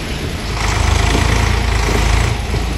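A loaded tractor's engine runs steadily close by, a loud, rough mechanical drone with a faint rhythmic pulse that swells slightly and holds throughout, with no talking.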